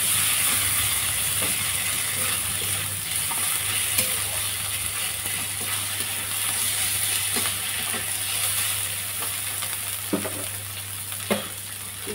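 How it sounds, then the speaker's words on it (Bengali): Onion and ginger-garlic paste fry on a low flame in a kadai for a spicy crab curry, giving a steady close sizzle and hiss broken by a few soft stirring clicks. "আমি আঁচটা কমিয়ে ভাজছি,"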